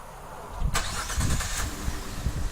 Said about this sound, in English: This will trigger the vehicle to remote start.